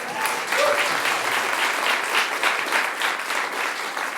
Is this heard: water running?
no